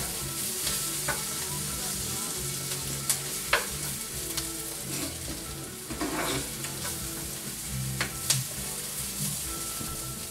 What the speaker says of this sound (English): So we're just going to wait until vegetables do saute up.